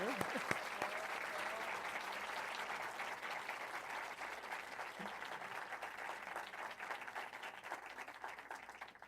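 Audience at an autism seminar applauding the speakers: steady, dense clapping from a crowd filling the room, moderately loud and continuous throughout.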